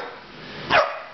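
A single dog bark given on command, close and fairly loud, a short sharp burst near the end against a quiet background.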